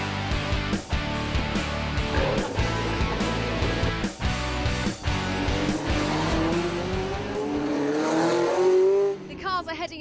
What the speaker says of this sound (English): The cars are heading out now for race 2